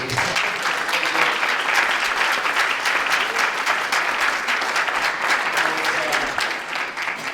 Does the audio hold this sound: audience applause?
yes